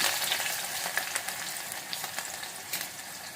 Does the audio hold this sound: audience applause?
no